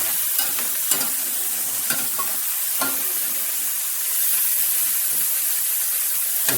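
Zucchini softens in a hot pan, a bright continuous sizzle with a handful of spatula scrapes and clicks early on, the frying hiss swelling slightly toward the end; no one speaks.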